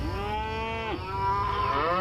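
A cow moos in one long, clear, close bellow that dips briefly and then rises again, heard alone with no talk.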